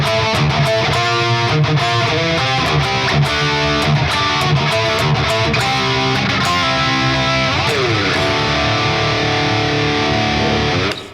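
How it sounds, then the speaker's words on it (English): Distorted electric guitar plays the second part of a riff, a busy run of chugging palm-muted notes and bright picked lines that carries on steadily for the whole stretch with no talking. "So that second part of the riff sounds like this."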